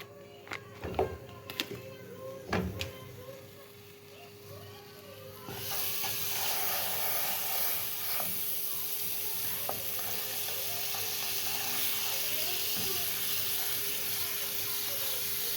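Cream poured onto roasted flour in a pan for halva, setting off a sudden loud, continuous sizzle that follows a few sharp clicks and knocks and then holds steady.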